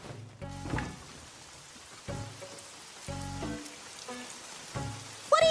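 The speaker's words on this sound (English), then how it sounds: "Hey, it's raining out here." Rain falls outside in an English-dubbed anime scene, a steady close wash with a few soft knocks and thumps over it.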